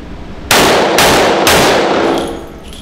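An FK BRNO PSD pistol fires three rapid, very loud shots about half a second apart, each a sharp blast with a ringing tail that fades out over the last second.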